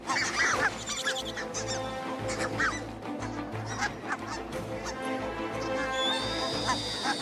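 Geese honk repeatedly in a chorus of loud, nasal calls, some near and some farther off, as they chase buffalo in an outdoor wild setting.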